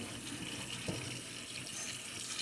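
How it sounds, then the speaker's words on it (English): Tap water runs steadily into a sink while an object is washed off with bleach, soap powder and dish detergent, a continuous close rushing stream with one brief splash partway through and no talking. "I just need to wash this off right quick."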